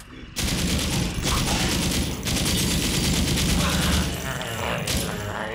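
Rapid, dense gunfire from the VR zombie game Contagion VR: Outbreak rattles nearly nonstop for several seconds, loud and close, with brief gaps between bursts.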